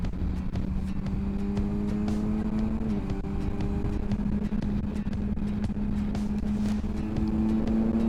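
A Kawasaki Versys 1100 SE motorcycle rides at speed on the autobahn, its engine holding a steady drone that rises slightly in pitch over rushing wind noise throughout.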